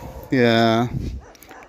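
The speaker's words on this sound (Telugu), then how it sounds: "నైట్ టైం కదా, ఈ కుక్కల గోల చాలా ఎక్కువగా ఉంది." A single loud, drawn-out dog bark or yelp rings out close by at night, followed by faint, quieter sounds in the background.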